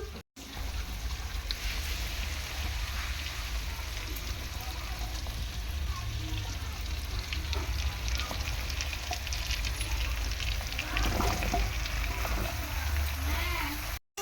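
Chopped bottle gourd and shrimp frying in a pan while being stirred, giving a steady close sizzle with scraping and clinking throughout, slightly louder toward the end, and no voice over it.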